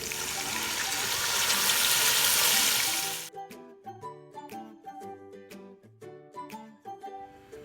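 Beef yakhni broth, about two and a half glasses, pours in a steady loud gush into a rice pot for Kabuli pulao for about three seconds, then stops and leaves quieter intermittent clinks and rattles.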